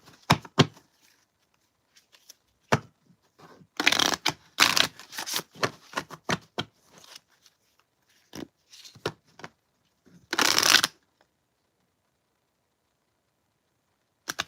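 Tarot cards are shuffled by hand in short bursts of riffling and flicking, close and crisp, separated by silent gaps.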